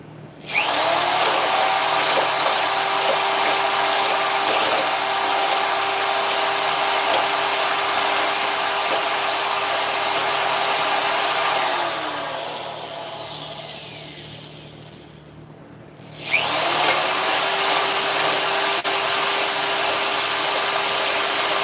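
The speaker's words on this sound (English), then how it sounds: "I have to get my hole saw back out." A hole saw bores through a gecko dig box lid in a long, steady power-drill whine that cuts out partway, then starts again at full strength.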